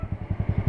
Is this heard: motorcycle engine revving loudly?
yes